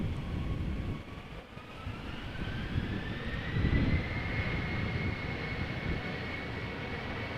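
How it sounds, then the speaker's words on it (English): A KLM Embraer 190 jet at Amsterdam Schiphol Airport, bound for Humberside, gives a steady, fairly distant engine roar with a rising whine. The sound swells slightly midway as the aircraft moves along, with no voices. "This is KLM flight 1485 Embraer 190 going to Humberside."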